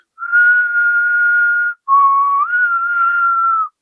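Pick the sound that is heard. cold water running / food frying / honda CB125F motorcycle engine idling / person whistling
person whistling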